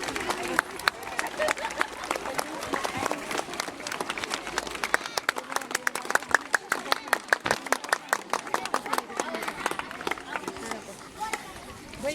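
Audience at a school function clapping in a steady, dense patter that builds and lasts throughout, with a speaker's voice and crowd murmur underneath.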